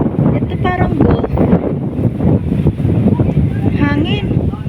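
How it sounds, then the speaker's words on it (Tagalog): Strong wind buffets the microphone at Clear Water Bay Park in Hong Kong, a constant loud low rumble with voices talking over it. "Hangin."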